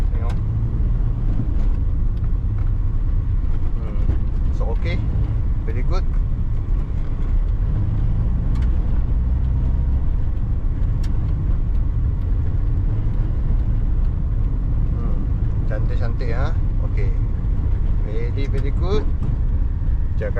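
Interior drive in a 2004 Perodua Kenari 1.0 EZ automatic, with a steady low road and engine rumble running throughout while people talk over it at intervals.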